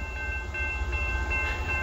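A very long freight train of over 800 axles rolls past on the Old Main Line, a steady low rumble with faint rhythmic clatter throughout, no talk.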